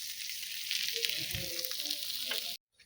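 Food frying at a village party in Mahabaleshwar: a close, even hiss of sizzling oil for a couple of seconds, then it cuts off abruptly.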